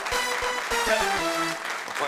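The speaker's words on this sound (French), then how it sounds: "je pense que ça mérite même des applaudissements" A studio audience on a French talk show breaks into applause, a short burst of clapping mixed with voices talking and calling out over it.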